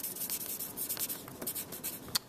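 Pen or pencil writing by hand on paper, a close, soft run of scratchy strokes and light rubbing in quick uneven bursts, with one sharper tap near the end.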